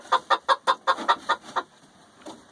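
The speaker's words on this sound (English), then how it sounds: "Yance is going to crow for us." A rooster on a small home farm calls in a run of seven or eight sharp, evenly spaced clucking bursts that fade toward the end, close and fairly loud, followed by one last faint call.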